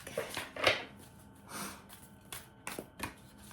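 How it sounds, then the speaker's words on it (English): Tarot cards being shuffled in short irregular bursts of riffling and slapping, close by with quiet pauses between. "We're shuffling these cards."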